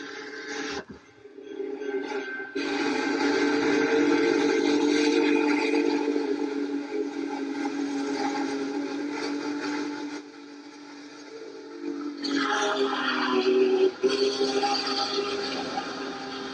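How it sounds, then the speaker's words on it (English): A train rumbles along with a sustained whistle, played back from a video through a Happrun 1080P projector's built-in speaker, steady and fairly loud with a brief dip midway. "here's a video of a train"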